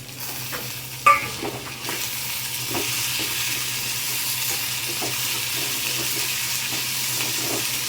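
Shallots and curry leaves fry in a pan with a steady, fairly loud sizzle that holds for several seconds, preceded by a sharp clatter as the shallots drop in, and no one speaks.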